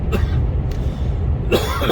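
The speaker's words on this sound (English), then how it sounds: "I've still got a bit of a cough" Two short, rough coughs, one near the start and one near the end, heard close over a loud steady rumble of road noise inside a Mercedes Actros truck cab.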